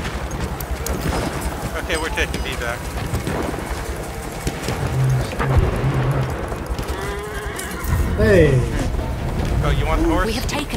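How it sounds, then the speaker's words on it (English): A horse in the video game Battlefield 1 neighs and whinnies, with clip-clopping hooves and battle noise around it, while players talk over the action. "Might as well use the horse."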